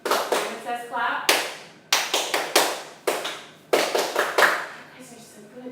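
Hand claps from a group of students playing Simon Says in a classroom lesson, a series of sharp separate claps arriving in quick irregular bursts, with a teacher's voice giving commands between them.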